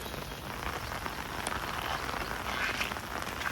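Continuous rain pours over a flooded village, a steady dense hiss of drops striking water and surfaces, with faint frog croaks in the background.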